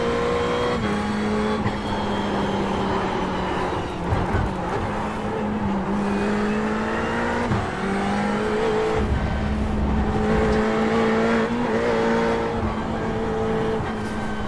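A Ferrari GT3 race car in the iRacing simulator accelerating hard out of a corner, its engine droning and rising steadily through the gears with a continuous loud tone and no talking.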